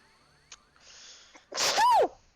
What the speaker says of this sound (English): And that wasn't even my loudest sneeze.